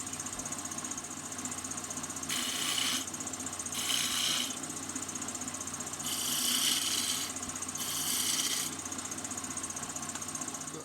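Wood turning on a lathe with a half-inch spindle gouge, shaping a Christmas angel ornament: a steady motor hum runs throughout, broken by four loud, hissing bursts as the gouge bites into the spinning wood.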